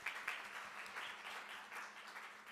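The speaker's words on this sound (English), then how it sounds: "Just join me in giving them a final round of applause." A conference audience applauds its panelists at the close of a session on transformative adaptation, producing a faint, even wash of clapping heard at a distance, steady throughout with no voices.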